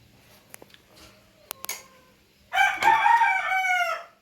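A rooster crows loudly once near the end, a long drawn-out call after a few scattered knocks and clucks in a quiet home setting.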